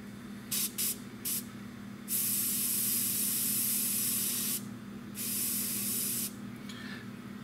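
An airbrush sprays paint onto a plastic scale model of a Tamiya P-47M, first in three short hissing bursts, then long steady hisses broken by brief pauses, close and fairly quiet, with no talking.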